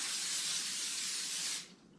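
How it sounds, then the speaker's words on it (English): Cooking spray hisses steadily from an aerosol can onto a cookie sheet in a kitchen, one continuous close burst of about a second and a half that stops abruptly, followed by a brief knock. "We'll spray that with a little bit of spray."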